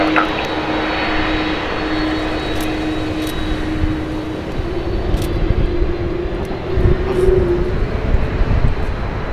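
An American Airlines jet takes off from runway 25 Left at Los Angeles International Airport, its engines giving a steady, broad roar with a sustained droning tone throughout.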